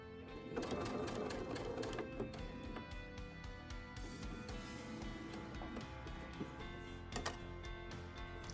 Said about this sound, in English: And then I sew right off of the edge right to the point.